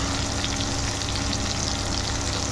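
Chili and turmeric powder sizzling in hot oil in a pan for a Bengali dal dish, a dense, steady crackling fry that stays close and loud without a break.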